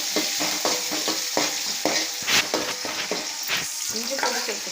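Onions sauté in a hot pan for a Tamil-style duck curry gravy, a steady loud sizzle broken by regular scraping stirs of a spoon, close up with no talking.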